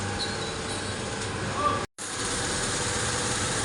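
A bus engine idles inside a garage in a steady low drone, with a brief dropout partway through and no clear talk.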